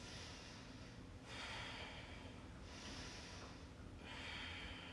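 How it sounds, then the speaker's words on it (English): Slow deep breaths during a yoga session, alternating long airy inhales and exhales, about three full cycles, close and soft with no talking. "Inhale. Exhale. 3 more breaths."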